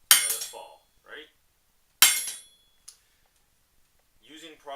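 A large hammer is raised and dropped, landing in two sharp metallic strikes about two seconds apart, each ringing briefly and fading, with short bursts of speech between and after.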